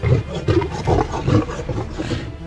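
Lion roaring in repeated rough bursts as it attacks a tiger, a loud close growling roar with no talk.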